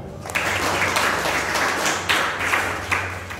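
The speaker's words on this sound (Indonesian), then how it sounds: "tepuk tangan dulu untuk mereka" Applause from a class audience closing a lecture session, many hands clapping steadily at close range after a brief quiet start, with a few louder accents along the way.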